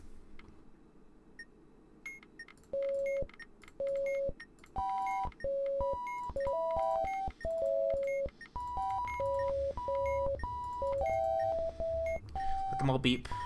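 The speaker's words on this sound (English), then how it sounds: "Let them all beep." Sequence of electronic beeps and tones from a video game puzzle round, short bright tones in a bouncing, irregular melody with clicks between them, backed later by a low hum and faint talk.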